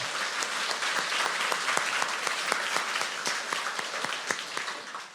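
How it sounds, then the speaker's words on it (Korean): Congregation applauding at a Korean church Christmas service: dense, steady clapping from a large crowd fills the hall at full volume for several seconds without pause, with no talk over it. "우리 영광의 박수 올려드리겠습니다"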